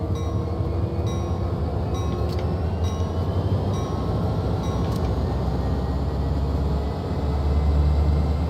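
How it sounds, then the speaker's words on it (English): An EMD diesel locomotive in Train Sim World 2, on the Clinchfield Railroad, starts to move under a small throttle setting. A steady, heavy engine rumble with faint metallic rail tones runs throughout, close and continuous, with no talking. "That EMD sounds so good"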